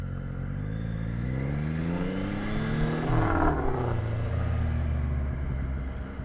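Yamaha R9 motorcycle engine droning steadily while riding, its higher-pitched tone swelling briefly midway as revs rise and then settling, loud and continuous with road rumble underneath.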